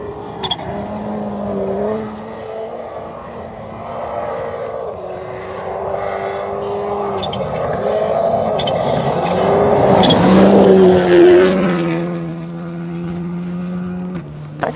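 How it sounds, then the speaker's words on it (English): A rally car with a blow-off valve passes on a gravel stage at the Oregon Trail Rally, its engine note rising loud and close then falling away, with chattering valve bursts and wind noise. "I love the sound of these cars that have some of these blow-off valves or bypass valves"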